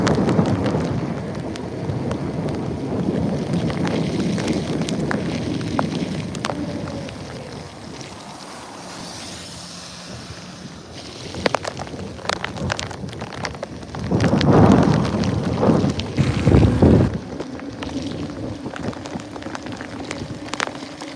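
Heavy rain drumming on a surface with low rolling thunder, a loud steady downpour that eases midway before a second deep rumble of thunder swells and fades.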